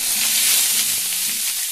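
Thinly sliced onions fry with black cumin seeds in hot oil, a steady close sizzle crackling alone throughout, with a few faint stirring knocks underneath.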